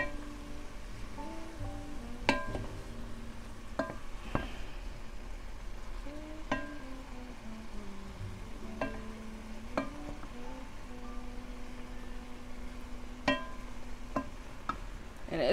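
Cauliflower rice with turmeric stirs and sizzles gently in a pan, with a soft continuous frying hiss and occasional scraping and clinking of the utensil against the pan.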